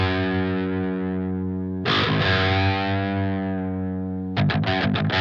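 Distorted electric guitar played through an Aurora Livver VST emulating a Line 6 Pod, with a long sustained chord ringing out, a fresh strum near two seconds, then a burst of quick choppy chords at the end, loud and alone.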